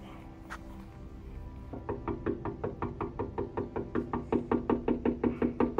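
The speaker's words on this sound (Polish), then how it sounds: "Podjechaliśmy pod dom i 5 minut pukaliśmy." Knocking on a house door at night: a fast, steady run of sharp raps that starts after a quiet moment and keeps going evenly, growing slightly louder, with no talk over it.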